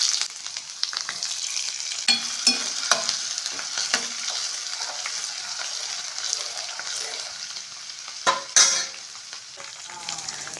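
Ginger and garlic frying in hot oil with mustard and fenugreek seeds for papaya pickle, a loud, dense sizzle with crackling and stirring scrapes throughout, no voices.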